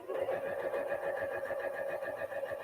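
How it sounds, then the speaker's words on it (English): Janome sewing machine stitching fabric in a steady, fast mechanical whir with a rapid needle rhythm running without a break, close and moderately loud, with faint talking mixed in. "I'm going to sew this piece, and I'm going to sew it all the way till the end."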